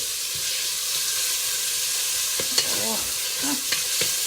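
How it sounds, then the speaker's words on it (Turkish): Meat and onions for an okra stew sizzle steadily in a hot pot, with a few louder scrapes and clinks from stirring. The frying sounds close and constant. "Şimdi biraz da etine soğanı kavuruyor."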